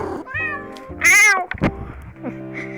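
A cat meows several times up close, with one loud, drawn-out cry in the middle and shorter mews around it.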